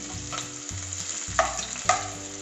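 Onion and green chili sauté in a pan, a continuous close sizzle with a low steady hum beneath and two sharper stirring scrapes near the end.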